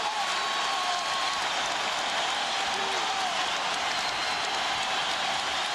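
Steady broadband roar of a basketball arena crowd cheering with everyone on their feet during an NBA playoff game between the Lakers and Rockets, a dense continuous wash of voices at even loudness throughout.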